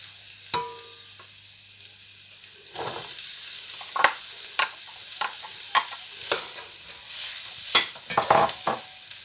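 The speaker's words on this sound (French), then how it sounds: "Et là, on touille." Vegetables for chicken jambalaya, including garlic, green pepper and celery, sizzle in a hot pan while being stirred, with repeated scraping strokes over a steady frying hiss.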